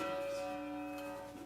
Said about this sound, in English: The largest of these is the G2 in the back row, and it looks and sounds like this.